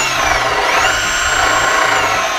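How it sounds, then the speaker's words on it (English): A power drill whirs steadily and loudly up close while being used on a farm tractor, a continuous high-pitched motor drone with no talk over it. "can you drill that spot right there for me?"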